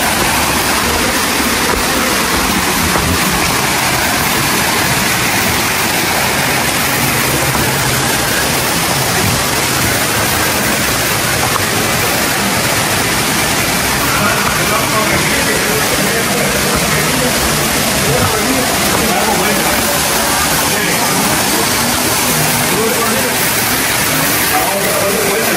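Water pours steadily over the Yelapa village waterfall near Puerto Vallarta, Mexico: a loud, unbroken broadband rush that fills the whole clip, with a voice faintly present beneath it.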